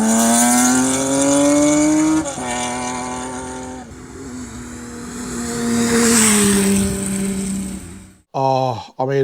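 A Kawasaki Z1300 six-pipe motorcycle engine drones loud and close, its tone swelling and easing, then ends in a few sharp blips of revving.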